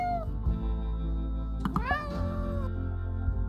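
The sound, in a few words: cat meowing in video game Spirit Talk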